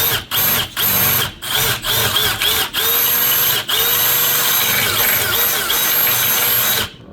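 A loud power drill whines continuously nearby, drilling soft metal on a KitchenAid door frame near stainless steel, with brief stops and restarts early on, then a long sustained run before cutting off.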